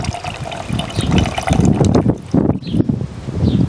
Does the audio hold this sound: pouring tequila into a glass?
yes